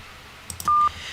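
A telephone number is dialed on a keypad: a few soft clicks, then a single loud, steady touch tone lasting a fraction of a second, with no talking.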